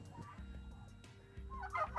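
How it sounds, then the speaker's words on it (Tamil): Roosters at a market crow and cluck faintly in the distance, a few scattered calls that rise toward the end over low background noise. "தனியாக சேவல் தனியாக நிற்கிது பாருங்க, எவ்வளோ சேவல்கள் நிற்குதாண்டு."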